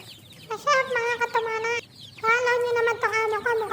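Repeated harmonic clucks and squawks from a chicken up close, coming in rapid bursts with a brief pause midway.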